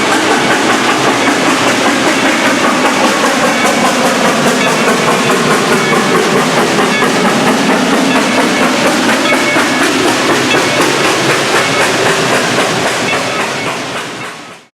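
A narrow gauge steam train at a theme park runs close by with a loud, continuous rhythmic clatter and chuff that stays steady throughout, then cuts off sharply at the end, with no voices.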